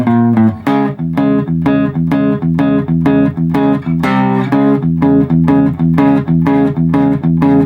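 Distorted electric guitar plays an intro riff, a repeating single-note pattern of punchy, evenly spaced picked notes, loud and close with no talking.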